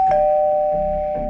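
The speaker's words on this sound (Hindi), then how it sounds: "दरवाजे की घंटी बजी।" A doorbell rings once with a sustained electronic tone held steadily, clear and close indoors in a flat, with no talk over it.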